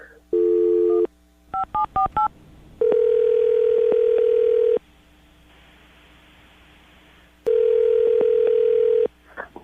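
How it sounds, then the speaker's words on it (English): A steady telephone dial tone, then a quick run of keypad dialing beeps, followed by longer tones and a stretch of faint line hiss. "I'm going to dial the phone number right now"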